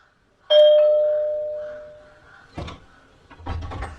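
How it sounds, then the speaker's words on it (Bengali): A single electronic doorbell chime rings once, loud and close, its tone fading slowly over a couple of seconds, followed by a few soft knocks and rustles like a door being handled. "দরজায় কলিং বেল টিপতেই"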